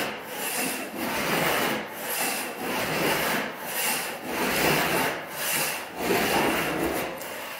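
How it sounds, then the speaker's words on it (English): A big floor scraper rasps across a floor during prep work, a rough broadband scrape repeating in steady strokes about once every second, close and fairly loud with no talking. "we scraped it this way with the big scraper"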